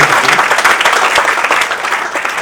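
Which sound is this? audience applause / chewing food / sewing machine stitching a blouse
audience applause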